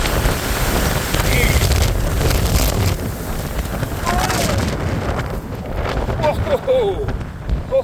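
A strong gust during a Colorado wind storm on a hiking trail near ponderosa pines roars loudly against the microphone, surging and easing over several seconds before faint voice sounds near the end.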